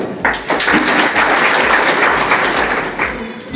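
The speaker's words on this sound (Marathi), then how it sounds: "म्हणून त्याच्यासाठी आपण टाळ्या वाजवतो" Audience applause at a school parent-teacher meeting: a steady, dense wash of many hands clapping together, loud and close, sustained for several seconds without letting up.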